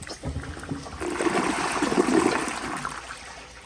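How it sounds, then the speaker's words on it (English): An American Standard Townsend Vormax toilet flushes close by, a rising rush of water that peaks in the middle and then trails off into a softer trickle. "I'll give it a flush"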